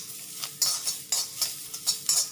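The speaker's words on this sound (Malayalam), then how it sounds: "ഇനി ഇതേ പാനിൽ തന്നെ നമുക്ക് 2 സ്പൂണ് തേങ്ങ ചൂടാക്കിയെടുക്കാം" Grated coconut roasting in a pan, stirred with a spoon in about six regular scraping strokes over a faint sizzle, close and fairly quiet.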